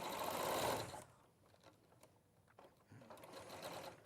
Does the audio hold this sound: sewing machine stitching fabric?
yes